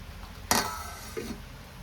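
Dishes and utensils being put away after washing in a home kitchen, one sharp clatter followed by a softer clink a moment later, close and fairly quiet.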